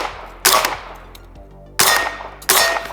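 Gunshots striking a level 3 body armor plate, with rounds from a Vector 10mm, 5.56 rifle, Savage Axis .308 and M&P 15-22; three loud sharp impacts arrive at irregular intervals, each with a bright ringing decay, outdoors with no talk.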